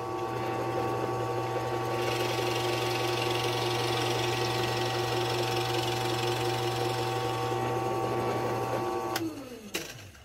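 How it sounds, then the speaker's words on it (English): Drill press with a Forstner bit hogging out material from a wooden cribbage board, giving a steady, even motor hum for about nine seconds before winding down, followed by a couple of sharp knocks. "Now the process is just hogging out the material with a Forstner bit."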